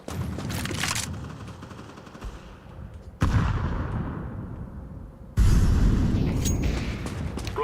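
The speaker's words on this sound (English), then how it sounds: "Incendiary out." An incendiary grenade thrown in a tactical shooter lands with sudden loud bursts, two sharp onsets each followed by a sustained roaring crackle, set among game gunfire with no talking.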